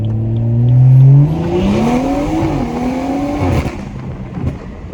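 A 500hp BMW 340i accelerates hard from inside the car, with rising engine pitch, a gear change, then a further climb before lifting off, loud and close.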